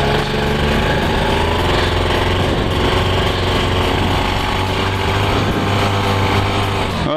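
A paramotor engine runs steadily on a small amount of throttle, a loud, close, continuous drone that fills the whole stretch with no voices over it.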